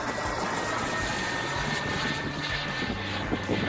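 A radio-controlled MB-339 model jet with a K80 turbine runs at half throttle, giving a steady, loud, continuous turbine roar with a whining tone that holds even across the whole stretch.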